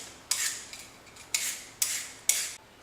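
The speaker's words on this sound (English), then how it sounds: "I'll peel the carrot." A carrot scraped with a peeler in four quick, bright rasping strokes, each a short gritty swipe with brief gaps between, close up with no talking.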